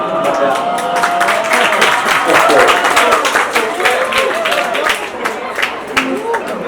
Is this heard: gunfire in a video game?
no